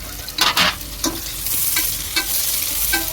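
Four large onions with slit green chilies and curry leaves frying in a pan for goat paya, a steady sizzle with a few sharp stirring scrapes near the start and later, no voices.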